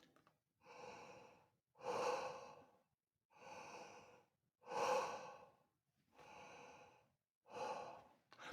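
Deep, slow breaths for a trumpet warm-up, six in all, alternating inhales and exhales with short silences between, close and breathy with an open throat.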